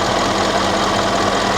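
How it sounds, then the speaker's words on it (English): A Mercedes CLS550 with its check engine light on idles steadily, a dense, even engine rumble close by with no talking over it. "The engine sounds fine though"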